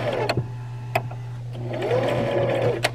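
A home sewing machine stitches fabric close up with a steady mechanical whir and rising motor hum, punctuated by sharp clicks as it starts, stops and goes into reverse.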